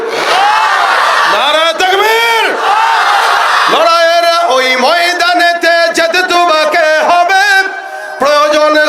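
Large crowd at an outdoor religious gathering shouting takbir in unison, loud repeated chanted calls in rhythmic bursts, several overlapping waves of voices rising and falling.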